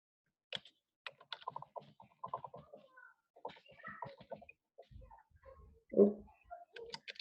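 Scattered bursts of soft key clicks, quiet and close, pausing and resuming irregularly, with one louder thump near the end.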